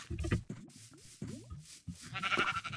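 Several sheep in the video game Minecraft let out a series of short, wavering bleats that come one after another in close succession, with brief pauses between the calls and no talking over them.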